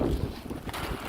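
Gusty wind buffeting the microphone outdoors near water, a rough, loud roar that swells and fades over about a second.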